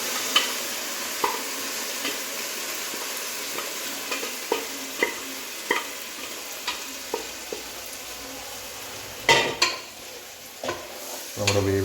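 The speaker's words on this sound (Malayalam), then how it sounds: "അത് നമുക്ക് നന്നായിട്ട് അങ്ങ് ഫ്രൈ ചെയ്തങ്ങെടുക്കണം" Boiled beef pieces fry in masala in a pan, a steady low sizzle punctuated by regular spoon scrapes and stirring knocks, with a louder clatter of utensils near the end.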